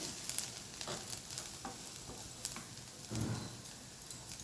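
Bottle gourd peel frying in a pan, a faint steady sizzle with occasional soft stirring scrapes and clicks close by, quiet and without talk.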